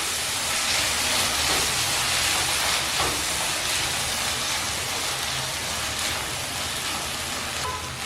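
Two chopped medium tomatoes frying in a pan with okra masala, a steady loud sizzling hiss with faint stirring scrapes and no talk.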